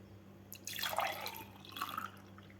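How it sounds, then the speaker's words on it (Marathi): Sweet sattu sharbat being poured into a glass, a quiet liquid splashing stream that rises in two short bursts close by, with no talk. "आता यामध्ये आपल्याला हे सरबत घालून घ्यायचं आहे."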